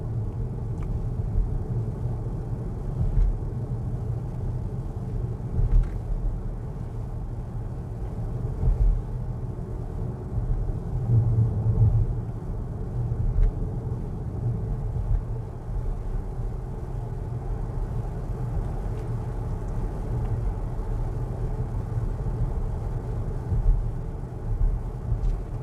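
An Xpeng G6 Performance electric SUV on a Sunday drive, heard as a steady low road and tyre rumble inside the cabin, continuous and even for the whole stretch with no voices.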